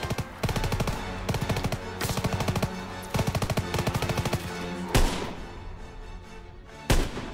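Rapid rhythmic bursts of automatic gunfire in Call of Duty WW2, loud and close, broken by short pauses and punctuated by two heavy single rifle cracks near the end.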